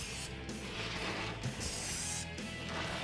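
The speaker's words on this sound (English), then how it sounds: "Now we're just going to spray the rest of it." Short hissing bursts of spray coat a prime rib in a kitchen, several pulses over a few seconds with brief gaps between, close and moderately loud.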